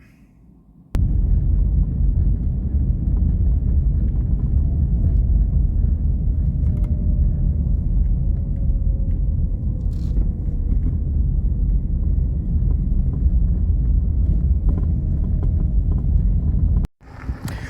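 Car driving steadily into a car park on Dartmoor, a constant low interior rumble of engine and road noise heard from inside, ending abruptly as it stops.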